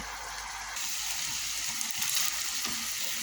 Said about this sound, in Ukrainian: Ріжете полосочками і легенько підсмажуємо на сковорідці.